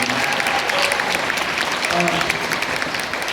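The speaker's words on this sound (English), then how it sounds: "One more round of applause for fantastic." Audience applause at a Q&A event with author K.A. Applegate in Belmont, NC, a dense steady clapping that fills the space, with a few voices and cheers mixed in underneath.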